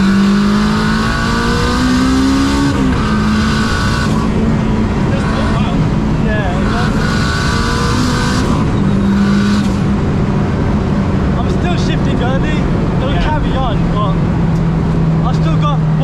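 A 500 bhp K20-engined Honda EK Civic with an open differential accelerating hard, engine note climbing through the revs and dropping at gear changes, loud and close from inside the cabin, with voices talking over it.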